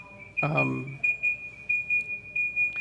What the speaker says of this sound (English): she's got a fire alarm going off in Harmony Hills